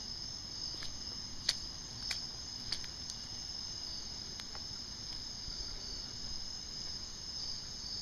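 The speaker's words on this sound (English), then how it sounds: "And the crickets started up." Crickets chirp in a steady high-pitched drone outdoors during a windy hurricane weekend, faint and continuous, with a few sharp clicks and no voices.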